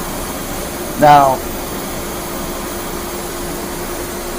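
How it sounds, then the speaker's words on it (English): A laser cutter's exhaust blower and air compressor hum together as a steady even drone, with someone briefly speaking over it partway through. "this is where you got to turn on your blower and compressor"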